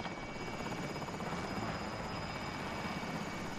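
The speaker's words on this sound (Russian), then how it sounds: "Вертолет прибыл. Готов забрать деньги." Helicopter in the video game Call of Duty Warzone arriving for a pickup, a steady close rotor drone with buzzing engine whine that holds at an even loud level throughout, with no talk over it.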